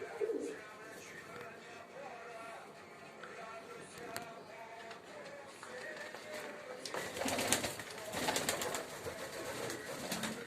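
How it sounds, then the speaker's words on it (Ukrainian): A young female pigeon coos softly in the background amid rustling and handling noises, with a burst of fluttering and scuffling near the end. "Отака голубочка."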